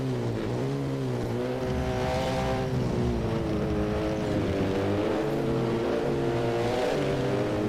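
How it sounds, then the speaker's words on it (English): A Mitsubishi Evo hill-climb car with a 2-litre turbocharged engine races up a mountain course, its engine note rising and falling steadily through gear changes and turns, loud and continuous with no talk. "2-litre turbocharged engine"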